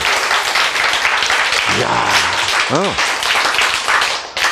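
Audience applause in a lecture hall, a broad steady wash of clapping filling the whole clip, with a voice calling out briefly partway through.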